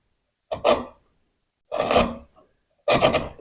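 A heavy mortise chisel pares pine end grain in three separate strokes, each a short dry rasping shave, up close with silence between them.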